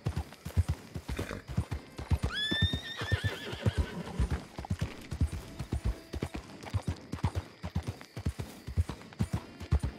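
Steady clip-clopping horse hooves beat a rhythmic pattern throughout in a video game while a horse lets out a loud, shrill whinny partway through.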